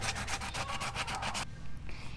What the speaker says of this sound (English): And then we sand the hole,